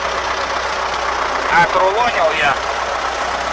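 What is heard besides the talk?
Kun tractor engine running while collecting bales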